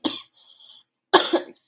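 Two sharp coughs close by, separated by a short pause, with a faint high hiss lingering between them.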